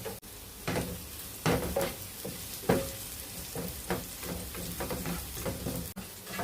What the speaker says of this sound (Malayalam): നെയ്യ് ചൂടായിട്ടുണ്ട്. അതിലേക്ക് നമുക്ക് അരിഞ്ഞു വെച്ച ചെറിയ ഉള്ളി ഇട്ട് കൊടുക്കാം. ഉള്ളി നന്നായിട്ടൊന്ന് മൂത്ത് വരണം.